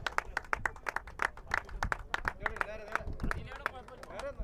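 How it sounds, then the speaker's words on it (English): Scattered, uneven clapping from a small crowd at an award presentation during a cricket league final, heard under someone talking over it. "Please give them a round of applause, guys"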